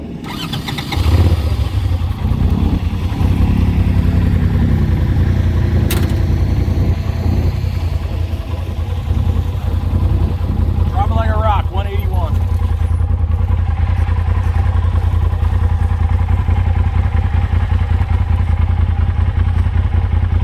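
Polaris RZR XP Pro Ultimate side-by-side engine cranking over and settling into a steady, loud low idle that runs continuously, with a brief clatter early on.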